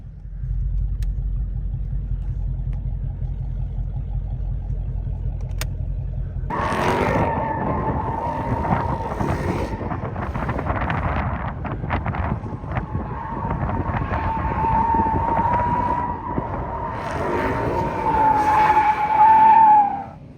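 A Mustang's engine idles low before tires break loose into a long, loud, continuous screech of a burnout, the roar and squeal rising toward the end amid wind noise.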